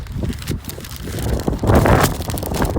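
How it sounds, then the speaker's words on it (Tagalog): Strong gusts of wind buffeting close by, roaring and rumbling unevenly and building louder toward the end. "Ang hangin."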